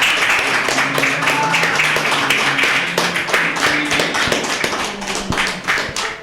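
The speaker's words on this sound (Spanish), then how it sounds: "pido un aplauso gigante y los cantos de toda la hinchada" A studio audience at a football talk show claps and applauds, sharp close hand claps over a busy crowd wash, with faint tonal chanting or voices beneath and steady loudness throughout.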